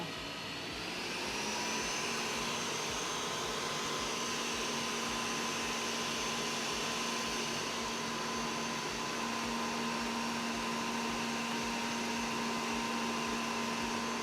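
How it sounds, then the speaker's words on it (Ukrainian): Electric hand mixer whipping red velvet sponge cake batter, a steady high motor whine with a constant pitch that runs unbroken and fairly loud throughout, with no talking. "і ще раз збиваємо"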